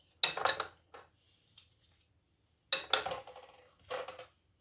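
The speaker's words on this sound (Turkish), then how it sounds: "Evet şimdi önce şöyle kaşıkla karıştırın" A spoon working through liquids (olive oil, salt, baking powder) in a bowl, with clinks and scrapes coming in short separated bursts, close and otherwise quiet between strokes.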